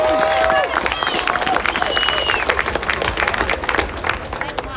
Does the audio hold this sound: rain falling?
no